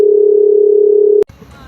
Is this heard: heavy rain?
no